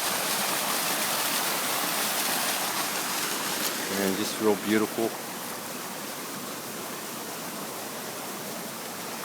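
Waterfall spilling over an old ranch dam built decades ago, a steady broadband rush that stays loud and continuous throughout, with someone speaking briefly over it midway.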